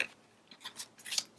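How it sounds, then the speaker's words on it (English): Scissors snipping the corners of a paper craft page, a few short, quiet crisp cuts spaced unevenly. "So I'm gonna go ahead and lift this and cut the corners"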